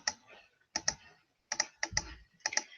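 Number keys on a calculator are tapped in short clustered bursts of crisp plastic clicks, close and fairly quiet, with brief pauses between the groups.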